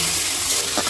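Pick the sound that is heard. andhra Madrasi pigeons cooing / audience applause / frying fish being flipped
frying fish being flipped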